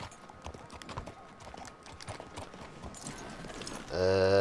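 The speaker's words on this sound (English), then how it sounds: "There's a horse and wagon coming" Hooves clip-clop in a quick, uneven rhythm as a horse and wagon approach in Red Dead Redemption 2, fairly close and moderately loud, before a sustained tonal sound swells at the end.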